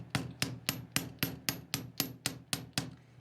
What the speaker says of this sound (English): take your hammer and your mallet